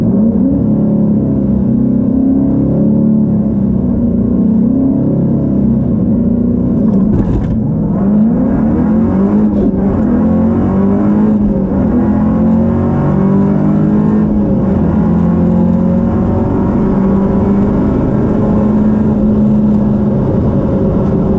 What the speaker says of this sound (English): I'm gonna go for it again, give it a little more beans, and do a bigger burnout.